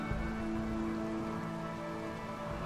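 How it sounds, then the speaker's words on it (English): Rain pours steadily during a thunderstorm in the colony-building game RimWorld, a dense even hiss of rainfall with faint tonal game music or ambience beneath and no speech. "That is one rainy thunderstorm, alright."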